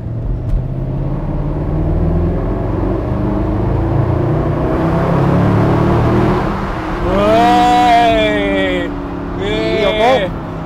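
A Mercedes-Benz SLS AMG Roadster's engine pulling hard in third gear in automatic mode, rising to a loud, climbing howl before a brief drop and a second surge, with people talking over the car's cabin drone.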